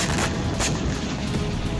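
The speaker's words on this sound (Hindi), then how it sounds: "रात के वक्त इजरायली फाइटर जेट्स ने बम गिराए, जिसके बाद जबरदस्त धमाका हुआ।" Heavy blasts from Israeli fighter jet air strikes at night on the Lebanese town of Aita al-Shaab, a loud, continuous rumbling roar of explosions with sharp cracks, no voices.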